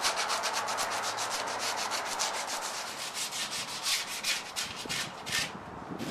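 Hand sanding a rustic wooden log with sandpaper: steady rhythmic rasping strokes, close and moderately loud, repeating for several seconds with no talk.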